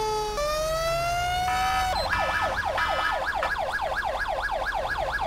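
A Q siren on a Chicago fire engine in GTA 5 rises in steady tones, then switches to a fast, continuous warbling wail, loud and close, with no voices.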